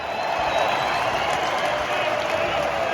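A football crowd at Anfield roars and applauds as the goalkeepers come out to warm up before Liverpool versus Sheffield United, a loud, sustained wall of stadium noise.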